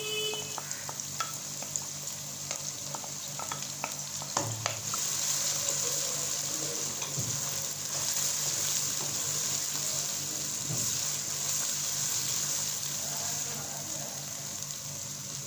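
Chopped green chillies dropped into a pan for kadhi pakora, with a steady soft sizzle and light frying hiss throughout, punctuated by a few clinks and stirring knocks, quiet and close.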